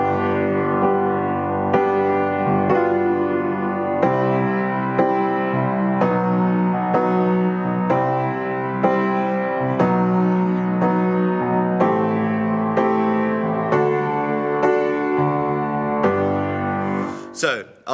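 Piano plays a section of a song, steady sustained chords with bass notes struck every couple of seconds, loud and close throughout, alone with no talking.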